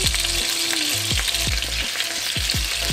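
Meatballs for spaghetti frying in a pan, a loud close sizzle throughout with a run of sharp popping crackles, no voices.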